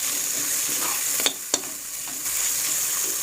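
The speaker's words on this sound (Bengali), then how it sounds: "ভাজা ভাজা করব যতক্ষণ না টমেটোর জলটা শুকিয়ে যায়।" Tomatoes fry in a pan for cauliflower dal, giving a continuous close sizzle with a couple of brief utensil scrapes partway through.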